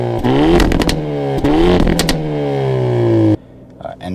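A Hyundai Elantra N with a factory valved exhaust in N mode loudly revs up and falls away twice, its engine note rising and dropping. The revs end in an abrupt cutoff, followed by a few quieter crackles and pops heard up close.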